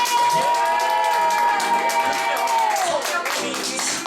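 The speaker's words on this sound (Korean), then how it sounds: "박수 쳐보세요" A church revival congregation claps together in a steady, crowded rhythm while a long, drawn-out voice carries over the top, with a few shouts mixed in.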